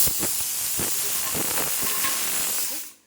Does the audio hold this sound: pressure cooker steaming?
yes